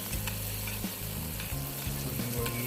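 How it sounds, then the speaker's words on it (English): Butter sizzles in a pan as the base for a rum sauce, a dense continuous frying hiss with faint crackles and a low background hum, fairly quiet and without speech. "Add the butter in first."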